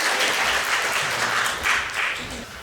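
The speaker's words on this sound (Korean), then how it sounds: "박수 한번 주세요." Congregation applause at a Sunday church service, a loud, dense burst of clapping in gentle swells that continues throughout with no talking over it.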